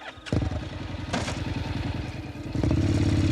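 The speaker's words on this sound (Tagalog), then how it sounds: "sumakay sa motor at yumapos sa bewang niya nang umandar na ito" A motorcycle engine catches and settles into a steady, rattling idle, then rises in a louder rev as it pulls away, with no voices over it.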